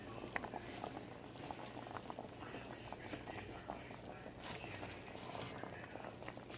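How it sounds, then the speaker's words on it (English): Greens simmering in broth with smoked meat, a soft continuous bubbling and popping of boiling liquid, faint and steady throughout. "I'm going to put my greens into the water, the broth, with my smoked meat"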